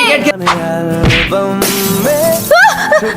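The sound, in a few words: window glass shattering, broken by a cricket ball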